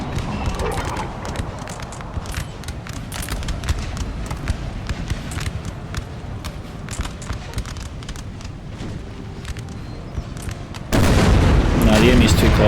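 Cannon fire from a battery of 6-pounder guns during a Napoleon: Total War battle, heard as a rapid scatter of sharp booms and thuds throughout, ending in a louder burst of continuous battle noise.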